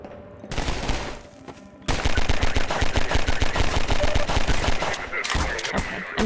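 Rapid video game gunfire, a dense run of sharp shots in fast bursts that grows louder and steadier after a brief quieter stretch at the start, with a voice talking over it.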